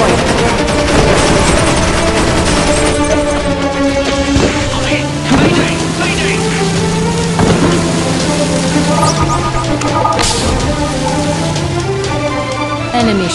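A spaceship is blown apart in a video game: loud, dense crackling explosions and rumbling blasts roll on continuously, with descending tonal sweeps layered through the chaos.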